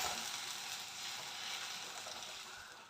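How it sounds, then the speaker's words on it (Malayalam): Squeezed tamarind water poured into a hot pan, giving a soft, continuous hiss of sizzling that holds steady for a few seconds, faint and without speech. "നമ്മൾ പിഴിഞ്ഞ് വെച്ചിരിക്കുന്ന പുളി ഒഴിച്ചു കൊടുക്കാം"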